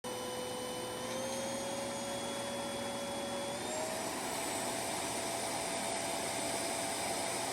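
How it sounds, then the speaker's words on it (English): Redroad P17 pet hair vacuum and groomer running, a steady loud whine with a constant motor hum that shifts slightly higher in pitch partway through, then holds evenly with no talk. "Here's what it sounds like when it's running."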